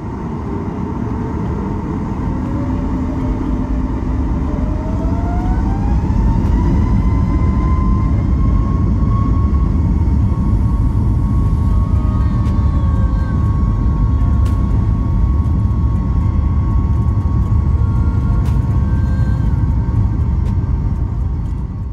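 Boeing 737 MAX 8 jet engines on an American Airlines flight spool up for takeoff, a steady loud roar with a whine rising in pitch and then holding level, heard from inside the cabin.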